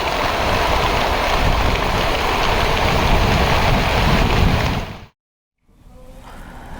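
Heavy monsoon rain pours in a dense, steady roar for about five seconds in Vikasnagar, Uttarakhand, then cuts out abruptly before softer outdoor noise returns.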